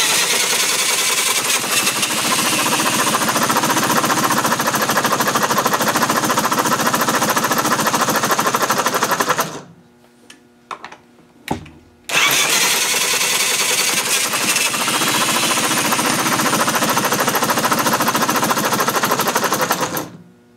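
A small mini hog engine with rough, bad-sounding gears runs loud and buzzing, drops out for a couple of seconds with a few sputters, then roars back steadily for the rest of the stretch.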